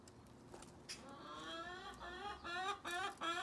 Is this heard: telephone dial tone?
no